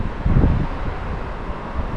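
Strong wind during a sandstorm buffets the microphone in a continuous low roar, loud and close with gusty swells and no talking.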